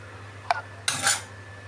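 A lid goes onto a cooking pot of thin prawn curry with amaranth stalks and potato: a small metallic clink, then a brief scraping clatter as it settles, close and fairly quiet over low hum.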